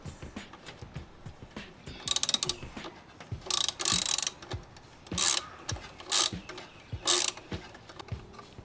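Nut being tightened by hand onto a black wire's connection during wiring work, with soft clicks and scrapes and several short bursts of ratcheting or metallic turning.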